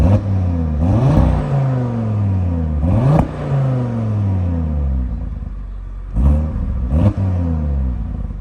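The 2.5-liter five-cylinder engine of an Audi RS3 revs repeatedly, several sharp blips rising and falling back to a steady rumbling idle, loud and close with no talking.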